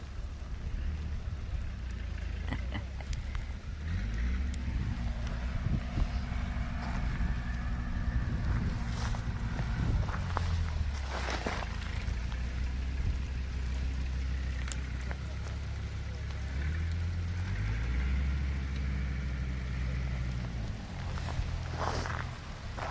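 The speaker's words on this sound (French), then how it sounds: "C'est de la grêle." Hail falls steadily near an old covered bridge, a dense continuous patter of small hard hits with occasional sharper cracks, under a low droning engine hum that rises and falls.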